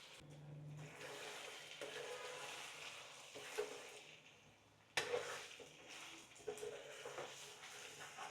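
Chicken fry sizzles quietly in a pan over a medium flame while it is stirred now and then, with soft scraping and a few sharper clinks against the pan.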